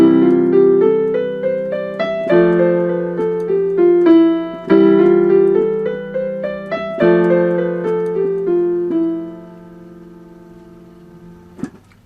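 An acoustic-toned guitar plays a sequence of arpeggiated chords in Phrygian mode, with notes ringing and overlapping in clear cascading phrases, then fading to quiet near the end.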